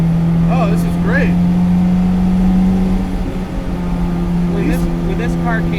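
A restored right-hand-drive 1967 MGB GT hums along steadily with a close, droning engine note, while occupants talk over the noise inside the car.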